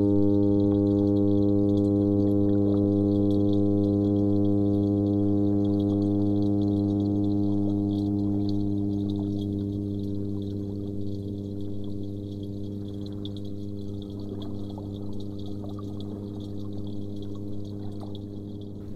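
Underwater recording of an angry toadfish vibrating its swim bladder, a steady low droning hum with layered harmonics that holds for the whole stretch and eases slightly in loudness toward the end, with faint clicks in the background.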